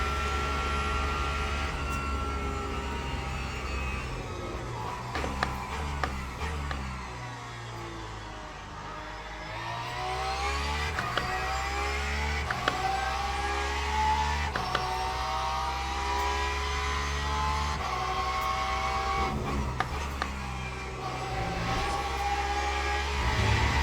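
A GT3 race car in Le Mans Ultimate, its engine droning loud and steady and rising and falling in pitch as gears shift up and down through a sprint race, with no talking.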